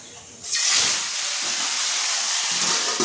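Hot oil in a kadai suddenly erupts into a loud, close, hissing sizzle that holds steady for a few seconds without any talk.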